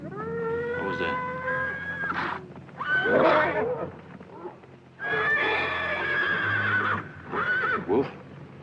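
A stallion neighs and whinnies loudly in several long, shrill bursts close by, with short pauses between calls and no talk over them.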